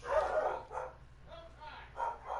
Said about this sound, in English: And dogs are barking